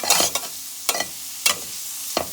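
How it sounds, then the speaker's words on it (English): Garlic and green onions stirred in a hot pan, a steady soft sizzle broken by several sharp scraping stir strokes at irregular intervals, close by with no talking. "I'm gonna cook this in about a minute or so, just to soften up the garlic a little"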